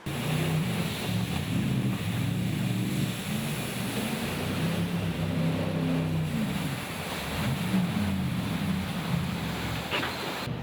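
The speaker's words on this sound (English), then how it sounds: "In the 50s, a chap called William Hamilton invented a boat engine that could run in 5 inches of water." A jet boat engine drones steadily on a river near Queenstown over rushing water and wind buffeting the microphone, continuous and loud throughout with no talking.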